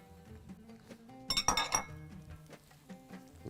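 Onions and curry leaves are stirred in a cooking pot for a Bahraini shrimp dish. A short burst of metallic clinks and scrapes sits in the middle, against a quiet, low background hum, with no talking.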